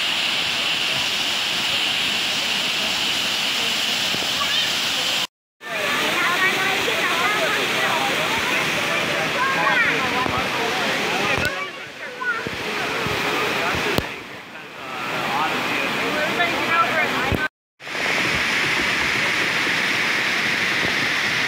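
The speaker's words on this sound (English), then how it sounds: "We get to go over the bridge that takes us past the waterfall." Amicalola Falls waterfall roaring as a steady, loud broadband rush, heard close from a bridge beside it, with a few abrupt cuts in the recording and brief wind buffeting.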